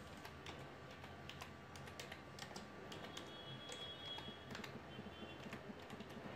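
Fingers tap out a short search on a computer keyboard, quick irregular keystrokes clicking near and clear over a low steady room hum, with no voices.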